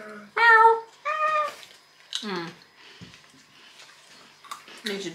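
A person imitates a cat with drawn-out, high meows, close and loud, then speaks briefly.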